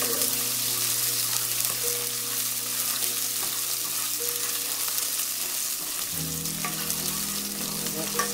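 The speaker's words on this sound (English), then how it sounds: "Saute these onions until they're nice and transparent" Chopped onions sautéing in a hot pan over lowered heat as the first step of sinigang na baboy, a steady close sizzle and crackle with occasional stirring that shifts in tone near the end.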